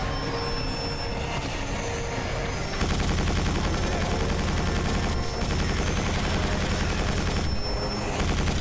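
Sustained, rapid gunfire from the Quake 4 video game dominates, growing denser and louder after a few seconds and continuing as a heavy, unbroken barrage with no talk.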